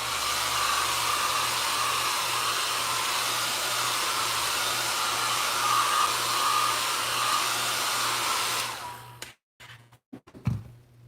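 A heat dryer blows a steady, loud whooshing roar over mixed media artwork for several seconds, then cuts off, leaving a few soft bumps and handling clunks.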